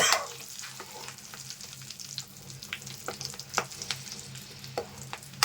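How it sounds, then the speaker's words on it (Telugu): A handful of slit green chillies fry in hot oil after a batch of restaurant-style chicken pakodi, giving a steady close sizzle with scattered pops and light stirring scrapes, with no talking. "ఒక 5 పచ్చిమిర్చి మధ్య చీరుకొని వేపుకుంటున్నాను"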